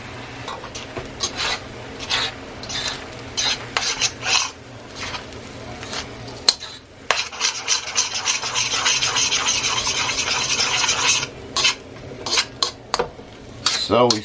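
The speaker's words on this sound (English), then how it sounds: "Then we're gonna throw them green onions on up in there with a little bit of chopped onions." Green onions and chopped onions are stirred into fried rice in a metal pan, making continuous scraping and clattering from the utensil with a light sizzle, and a louder stretch of steady scraping partway through.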